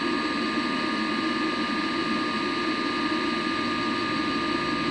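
A blower runs on a wood gas system, giving a steady, loud, continuous whir with a constant hum and no change in pitch or level, close by and without talk.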